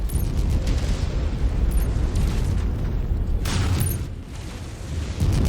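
A destroyed target explodes in a combat video game, a loud rumbling blast that roars on with crackling bursts and a second surge toward the end, with no talk over it.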